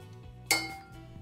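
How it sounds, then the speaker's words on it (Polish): Sliced onion dropped from a cutting board into a bowl, giving a single bright clink of the bowl that rings briefly and fades, close and fairly quiet against low background hum. "I przekładam od razu do miski."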